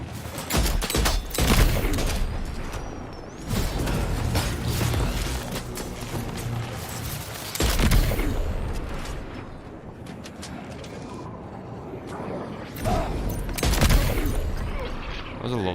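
Rapid bursts of gunfire from the video game Death Stranding 2, with loud volleys that come in clusters and then drop away. Quieter battle noise fills the gaps, and a voice speaks now and then.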